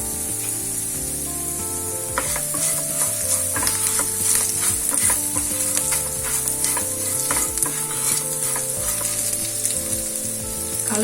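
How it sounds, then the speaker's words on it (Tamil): Pirandai (adamant creeper) frying in a pan with a small piece of tamarind and salt, a steady close sizzle with stirring scrapes throughout and no talking. "நம்ம வறுக்கும் போதே இதுல ஒரு சின்ன துண்டு புளி சேர்த்துக்கலாம்."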